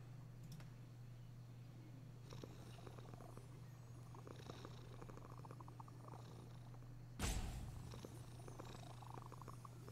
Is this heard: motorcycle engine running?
no